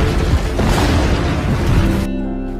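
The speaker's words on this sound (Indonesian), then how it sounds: "Beberapa dinamik pun meledak." Dynamite explosions make a dense, rumbling blast filling the first two seconds, heavy and loud, then cutting off abruptly into a low residual rumble.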